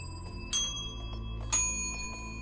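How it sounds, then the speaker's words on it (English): A bell is struck twice about a second apart, each hit a bright metallic clang with a lingering ringing tone, heard close over a steady low hum. "I'm surrounded by bells, so I just smash them around"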